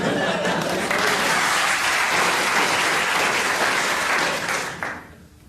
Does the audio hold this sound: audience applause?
yes